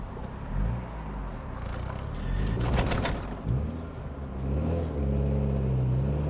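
A 1989 Honda Prelude sets off for a drive after a camshaft repair, its engine rumbling low and steady. Road and wind noise builds as it moves off, and a brief bird call sounds in the middle.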